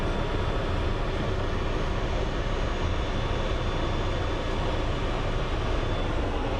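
A Boeing airliner roars at Phoenix Sky Harbor International Airport, a dense, steady broadband engine rumble that stays loud and unbroken, with no voices over it.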